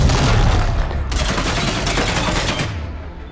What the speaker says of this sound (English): go ahead and throw a grenade